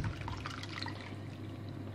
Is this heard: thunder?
no